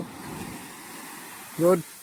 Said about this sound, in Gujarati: તો મિત્રો જો કેટલા મોટા મોટા મોજા આવે છે જો